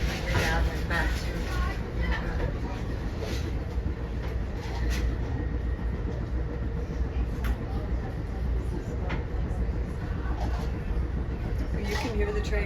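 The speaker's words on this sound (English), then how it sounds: "You can hear the train working now, coming up this grade." Onboard an Amtrak California Zephyr climbing a grade between Denver and Boulder, Colorado, a continuous low rumble and rattle carries on throughout, with people talking over it.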